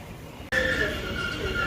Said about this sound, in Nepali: मेट्रो पनि आइसकेको छ